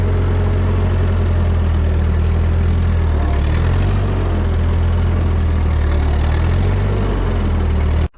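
An old Ford 2N or 9N tractor engine runs close by at a steady, throbbing low idle and then cuts off abruptly at the very end.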